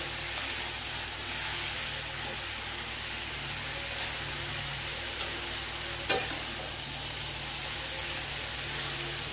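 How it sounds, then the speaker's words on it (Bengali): Dal being stirred together with leafy greens in a pan, a steady soft sizzle and hiss with occasional faint scrapes of the spoon, close and continuous. "এইভাবে ঠিক ডালগুলো সুন্দর ওপর থেকে নিচের থেকে ওপরে শাকগুলোর সঙ্গে একদম মাখা মাখা করে দিতে হবে"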